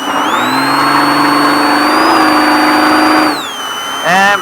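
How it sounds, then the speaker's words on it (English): A car engine accelerating hard in third gear around a cone course, loud and close, with a steady rising whine that drops off briefly near the end and then climbs again. "Off the brake, start to accelerate, third gear, and for center, and accelerate to reach the top."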